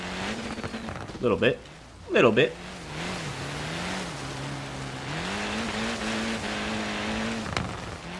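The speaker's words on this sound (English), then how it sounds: "This car just sounds incredible" Racing car in Forza Horizon 3 on a snowy mountain road, engine droning steadily with two sharp revving surges early on and shifting pitch, someone talking briefly over it.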